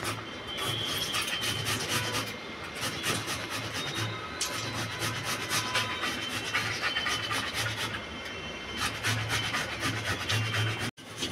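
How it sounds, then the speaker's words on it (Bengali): Tomatoes are grated by hand on a grater: a fast, rhythmic run of rough rasping strokes, close and continuous, with brief pauses and no speech. "টমাটারটা ঘষে নেব।"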